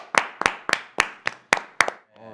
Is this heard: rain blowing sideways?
no